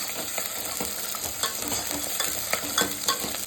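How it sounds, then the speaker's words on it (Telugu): Onions frying in hot oil with mustard seeds, cumin seeds and fenugreek for moringa leaf sambar, a steady close sizzle broken by the scrape and clack of stirring, with no voices. "ఇదిగోండి, ఉల్లిగడ్డలు వేసుకుంటాము."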